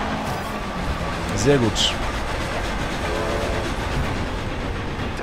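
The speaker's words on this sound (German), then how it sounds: "Oh Gott, da ist der Zugwagen." Train passing in the racing video game Forza Horizon 2, a low rumbling rail sound with a brief horn-like tone, heard under a man's speech and game engine noise.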